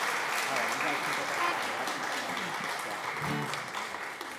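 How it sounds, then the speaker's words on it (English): Congregation at a Shabbat evening service clapping for two babies, a steady crowd of hands sustained for several seconds, moderately distant, with faint voices mixed in. "Clap for both babies."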